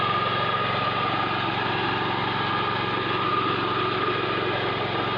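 A tractor-driven rotary mower cuts through bushes with a loud, steady engine drone and a constant whirring roar, unbroken for the whole stretch.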